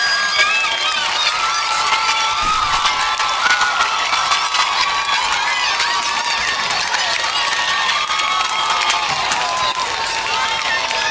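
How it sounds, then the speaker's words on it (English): Stadium crowd at a high school football homecoming cheering and applauding the newly crowned homecoming queen, a dense continuous roar of clapping and shouts with a voice speaking over it. "Ladies and gentlemen, give a round of applause for the 2017 Homecoming Queen, Amaya Woods, and her crew."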